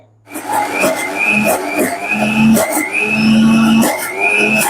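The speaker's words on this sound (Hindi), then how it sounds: "तो अब हम मलाई को मिक्सी जार में घुमा लेते हैं" A mixer grinder churning cream whirs loudly and continuously after starting abruptly, its motor pitch wavering with rattling, churning sounds from the jar.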